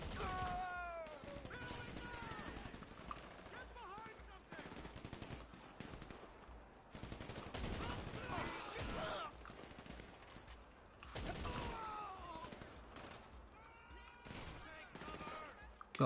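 Rapid automatic gunfire and scattered shots crackle in bursts during a GTA 5 Online gunfight. The shooting comes from several directions, with short pauses between volleys.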